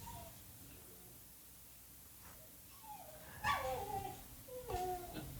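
A pet dog named Tilly whimpers and yips in short, rising whines, faint at first and then louder in two bursts near the end, with a low steady background hum.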